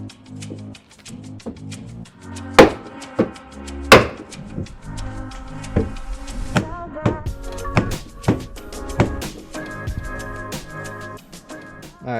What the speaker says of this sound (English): then just smacked it with the hammer